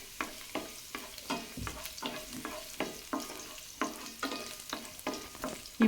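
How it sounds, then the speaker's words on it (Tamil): Five or six chopped garlic cloves frying in oil in a pan for wheat-flour veg noodles, a soft sizzle broken by regular scraping strokes of a spatula stirring, about two per second. "இப்போது இதை நல்லா ஃப்ரை பண்ணி விட்டுக்கோங்க."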